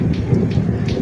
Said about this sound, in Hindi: बरसात हो रही है